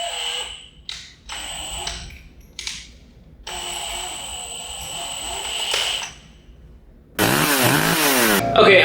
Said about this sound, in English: we're gonna have to drill a hole in it